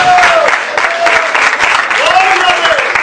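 A church congregation clapping to glorify God, a continuous dense patter of hands with a voice speaking over it at intervals.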